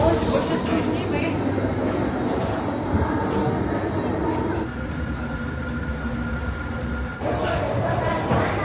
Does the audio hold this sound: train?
yes